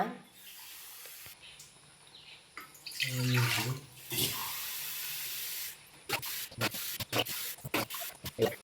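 Water poured from a glass into a pressure cooker while making ragi mudde, a brief splashing, hissing pour in the middle, with nearby kitchen clatter and knocks before and after.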